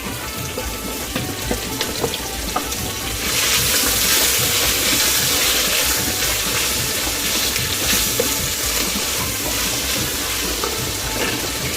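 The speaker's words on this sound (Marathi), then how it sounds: "मिरची टाकते, कढीपत्ता, आलं लसूणची पेस्ट आणि कांदा टाकते।" Chillies, curry leaves, ginger-garlic paste and onion frying in a pan for a traditional Vasai istuk dish, a steady broadband hiss that swells louder about three seconds in and keeps sizzling unbroken to the end.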